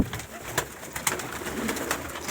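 Racing pigeons in a loft, on the eve of a race flight, coo softly and repeatedly at close range, their low calls blending with a few sharp flutters and knocks.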